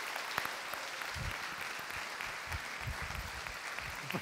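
Audience applause fills a graduation ceremony at an architecture school, a steady dense clatter of many hands clapping throughout, with a few louder claps standing out.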